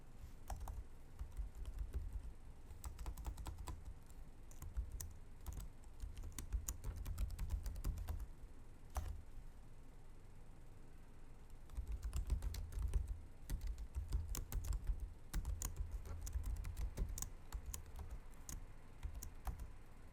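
Code being typed on a computer keyboard, with steady bursts of close, clicking keystrokes separated by a short pause in the middle, and no talking.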